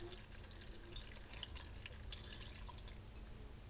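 Broth is poured into leftover roast chicken soup, a faint, steady liquid trickle and splashing with light drips, heard alone and quietly.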